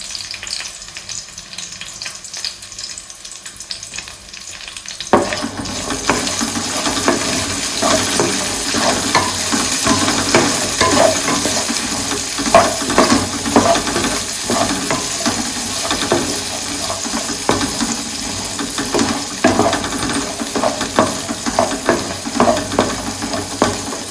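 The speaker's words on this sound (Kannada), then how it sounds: "ಈಗ ಏನಿದು ಇದನ್ನು ಶಾಲೋ ಫ್ರೈ ಮಾಡ್ಕೋಬೇಕು." Onion slices shallow frying in a pan for palak pulao, a steady loud close sizzle that starts abruptly after a few seconds of quiet and continues with crackling and occasional stirring.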